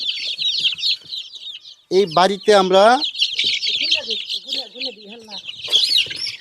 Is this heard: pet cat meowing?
no